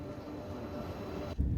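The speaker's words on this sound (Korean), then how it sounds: "순천역에서 기차를 타고" A train travelling from Suncheon station toward Seoul, heard from inside as a steady low rumble and hum, with a sudden heavier jolt near the end.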